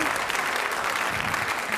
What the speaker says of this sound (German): Und Ihr Applaus beim Abmarsch